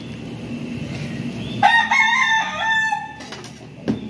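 A rooster crows once, loud and close, a drawn-out cock-a-doodle-doo over quiet background, followed by a brief cluck.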